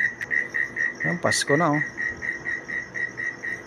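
Crickets chirp steadily in a rainy backyard vegetable garden, a continuous rhythmic trill running through the whole stretch, while a person speaks briefly in the middle over it.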